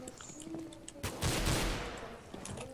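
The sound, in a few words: AWP sniper rifle gunfire in a video game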